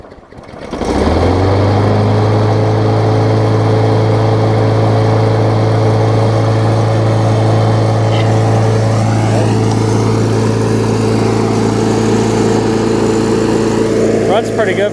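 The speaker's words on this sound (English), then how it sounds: "Runs pretty good for it to Tecumseh anyways" An Ariens push mower with a Tecumseh engine cranks and settles into a steady, loud, close drone that holds without pause; the engine's broken brake cable is replaced by a zip tie.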